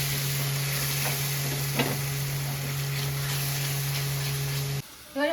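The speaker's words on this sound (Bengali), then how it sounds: "এবার দিয়ে দিলাম টক দই দিয়ে ভালো করে কষাবো" Masala with sugar and yogurt stirred and fried in a pan, a steady sizzle under a low constant hum with scattered scraping stirs, cut off near the end by a brief different noise.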